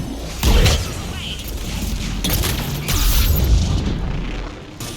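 Missiles launch and detonate during a Mass Effect 3 battle on Thessia: several heavy, close booms break out over a continuous roar of combat, with one strong blast near the start and more bursts following in quick succession.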